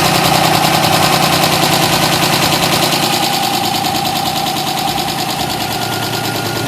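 A Chrysler 300 engine running just after a timing belt and water pump replacement, a loud, close, rapid rhythmic clatter with a steady mechanical drone underneath, continuous and without voices.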